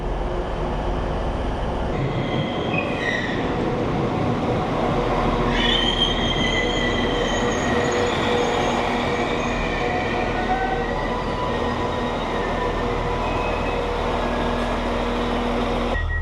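A train idles loudly at a platform, with steady rumbling, hissing brakes and high metallic squeals rising and fading, no voices.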